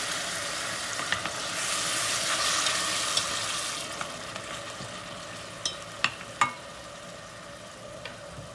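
Meat for a bean and meat stew (barbunya) is added to a pan and fries with a moderate sizzle that swells briefly, then settles under a few sharp utensil taps.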